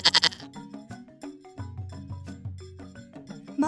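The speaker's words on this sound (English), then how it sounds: "This is Molly the goat." A farm goat bleats in a quick burst of loud calls at the start and again at the end, over light background music.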